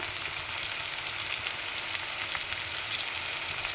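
Vegetables for fried rice sizzle in a hot pan, a dense, continuous frying hiss at close range that holds steady throughout with no voices.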